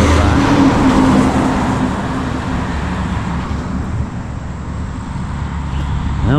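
A truck driving by on a road in Burnwell, Kentucky, a broad rumbling roar that is loudest at the start and slowly fades as it passes, with steady road noise continuing after.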